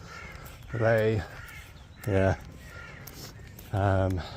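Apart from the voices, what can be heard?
birds calling outdoors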